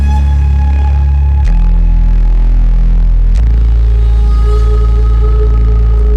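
Layered synthesizers with bass in an electronic music mix, sustained pads and a heavy low bass that shifts pitch in two clear steps, playing steadily on its own without talk.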